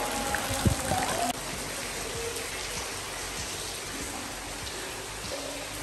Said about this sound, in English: there's like a little like waterfall coming down from there